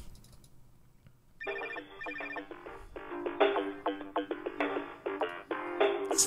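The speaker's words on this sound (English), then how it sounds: "this is a very clear ringtone" A phone ringtone sound effect made for role-play chirps in a clear repeating electronic pattern, starting after a quiet moment and continuing in rhythmic bursts.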